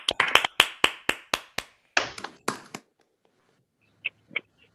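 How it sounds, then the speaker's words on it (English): Audience applause at an honors convocation: a burst of many sharp, rhythmic claps that fades within about three seconds, followed by near-quiet with a couple of isolated taps. "And applause."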